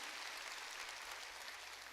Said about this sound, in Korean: 박수로 하나님께 영광 돌려가지고